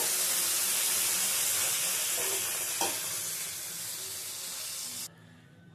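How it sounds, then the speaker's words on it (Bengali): Constant hiss of okra frying in oil in a kadai, close and steady, with a faint clink partway through before the sizzle drops away abruptly. "ঢ্যাঁড়সগুলো ভাজা হয়ে গেছে, এবারে তুলে নেব।"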